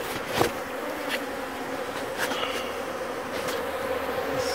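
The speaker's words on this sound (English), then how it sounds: "it's a lot of bees." A dense, constant drone of many honey bees buzzing close by at a hive, with individual insects whizzing past now and then over the steady hum.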